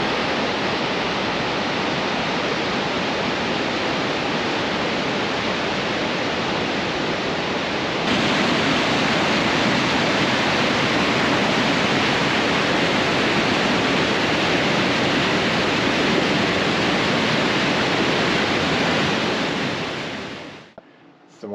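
Rearguard Falls roars with a constant, full-bodied rush of falling water heard close up, steady and loud for about twenty seconds before cutting off abruptly.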